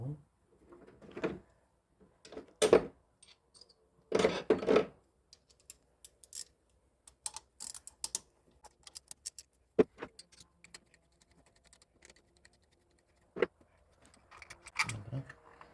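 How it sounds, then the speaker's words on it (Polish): A T40 Torx key loosening the ignition coil bolts on an Opel engine during spark plug replacement: sparse, close metallic clinks, ratchety clicks and tool rattles arrive in short bursts separated by quiet pauses. "Następnie kluczem 40 torksem odkręcamy cewkę zapłonową."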